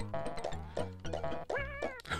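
A cat meows repeatedly in the Dennis SNES video game, with a quick run of five or six bright, tonal meows in close succession.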